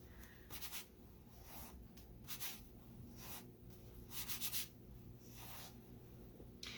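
Chalk rubs in short scratchy strokes across a wooden surface, quiet and close, in several separate bursts with pauses between them and no voices.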